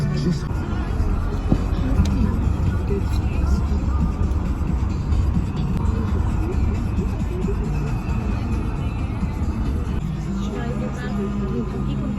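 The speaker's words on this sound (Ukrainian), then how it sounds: "Ми вже в автобусі." Cabin noise inside a moving bus in Romania, a constant loud low rumble of engine and road throughout with faint background chatter underneath.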